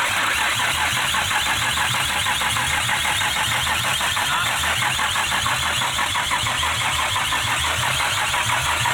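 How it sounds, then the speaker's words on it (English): Nissan Skyline engine fitted in a Toyota AE86 cranking on the starter without catching, a steady rhythmic churning loud and close throughout, with no talk. "When I put it on and it cranks, open the throttle."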